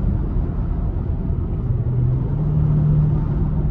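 A Range Rover engine in sport mode purrs at a low, steady rumble, close and continuous, with no talk.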